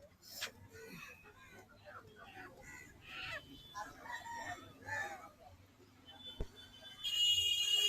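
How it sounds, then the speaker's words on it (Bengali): Roosters crow and hens cluck at a busy market for hill-country native chickens, several birds calling near and far over a murmur of voices, with a louder burst of crowing at the end. "প্রচুর পরিমাণ মোরগ মুরগি আসছে আবার।"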